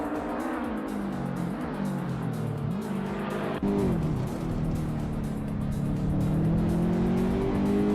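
Race cars in a racing video game roar past with sweeping engine pitch changes and rising revs, a dense continuous drone of several cars close together, with a brief dip midway before the engines surge again.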